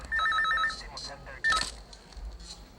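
A telephone rings in a Hindi-dubbed Tamil action film scene: a loud trilling burst of ringing, then a short second ring, over low background noise.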